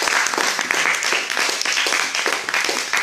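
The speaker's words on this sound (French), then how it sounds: "Il mérite des acclamations de Jésus-Christ de Nazareth." A church congregation applauds steadily and loudly throughout, a dense continuous wash of clapping with no pauses.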